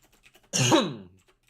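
A single sharp sneeze bursts out close by during a casual conversation, rising abruptly and trailing off into a brief voiced tail before quiet returns.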